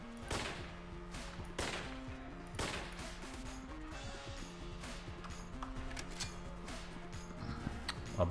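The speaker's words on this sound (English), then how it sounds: "A bolt action rifle." Sharp, separate gunshot cracks from a bolt action rifle in the video game Enter the Gungeon, fired at irregular intervals over a busy, layered game soundscape with music.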